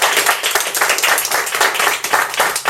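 Audience applause at a small improvised theatre performance in a tea room, dense steady clapping from many hands throughout, fairly loud and close, no talking.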